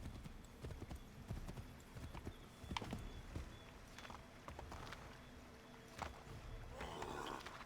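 Horse hooves clip-clopping in Assassin's Creed III Remastered, a steady walking rhythm of hoofbeats with faint game ambience and an occasional soft whinny, moderately quiet.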